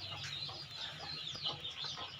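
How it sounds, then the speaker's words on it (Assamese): White Pekin ducklings call in a quiet series of high, rapid peeps and chirps from close by, with no talking. "আজি আমি দেখাম আপোনালোকক হোৱাইট পেকিং হাঁহৰ পোৱালি আৰু কালাৰিং হাঁহৰ পোৱালি হয়।"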